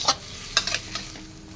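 Pumpkin leaves are stirred in a hot pan: a quick spatula scrape, then a short cluster of scrapes over a low background sizzle, close and brief.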